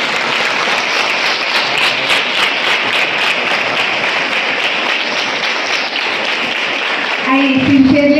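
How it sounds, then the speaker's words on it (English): A big round of applause from a school gathering welcoming a police official, sustained crowd clapping that continues loud and even for several seconds before fading as a voice starts talking at the end. "welcome sir with big round of applause."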